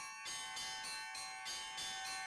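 Church bells in a Lviv region belfry ring out in a steady, even rhythm of about seven strikes with bright sustained tones and a faint background hum; no one speaks.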